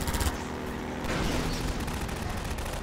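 Rapid submachine-gun fire in the shooter game Half-Life 2: Lambda Fortress, a dense continuous burst of shots mixed with rumbling combat noise, loud and unbroken throughout.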